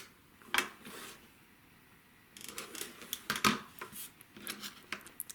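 Scissors snip off a small fabric nub from a pieced quilt block: two or three crisp, close cuts separated by soft rustling and handling of the cloth.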